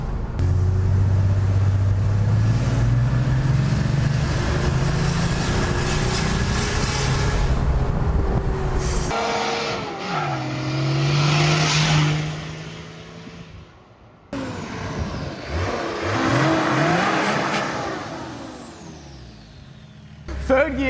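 A turbo-swapped GQ with a factory turbo making over 200 hp accelerates hard through third gear, its engine note climbing steadily and loudly before easing off, with wind and cabin noise and people talking over it.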